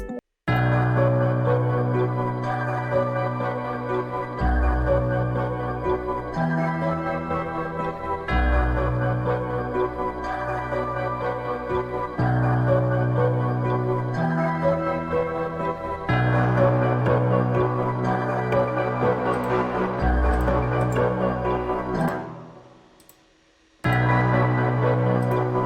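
Dark trap beat melody with a half-beat gate effect plays alone, sustained tonal layers chopped rhythmically in a steady pulse over a deep low tone, loud and continuous, then briefly fading out near the end before returning.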